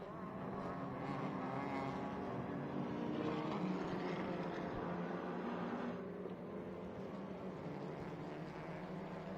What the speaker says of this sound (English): Car number 77 of Rafael Reis now coming towards us in turn 12.